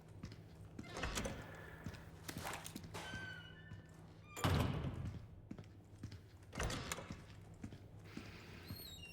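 Trying a locked door in Resident Evil 4 gives a few dull, heavy thunks and rattles, spaced a couple of seconds apart, against faint game ambience, with no voices.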